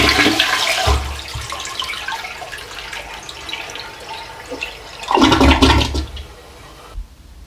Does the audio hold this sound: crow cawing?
no